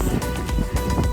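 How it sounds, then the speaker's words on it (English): Strong winter snowstorm wind around a boat, a rough, gusty roar buffeting close to the microphone, loud and continuous for a brief moment. "It's brutal. It's so windy."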